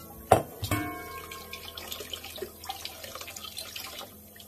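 Chestnuts with their inner skins are washed one by one in water in a kitchen, with two sharp splashes at the start followed by soft, irregular trickles and drips close by.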